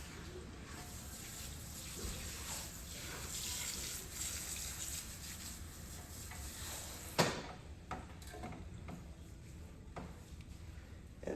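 Tap water runs steadily into a sink while a wig is rinsed and handled, a soft continuous splashing with a sharper knock partway through.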